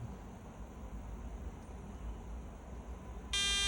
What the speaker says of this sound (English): When we hear this long beep, so means that reset is okay